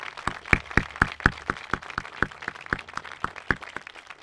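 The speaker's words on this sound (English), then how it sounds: "That woman deserves a round of applause." Small audience at a Memorial Day ceremony claps for a standing Gold Star mother, a steady run of distinct hand claps at moderate distance, fairly sparse and even.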